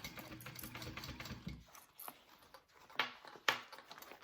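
A sewing machine stitches a bowler bag with a shortened stitch length, a fast mechanical patter for the first second and a half, followed by quieter handling clicks and a few sharp knocks.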